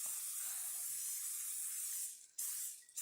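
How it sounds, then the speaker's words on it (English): Cooking spray hisses into a baking dish in a close, continuous burst, then pauses briefly and resumes for a short second spray. "I'm going to take my baking dish and I'm going to give it a light spray."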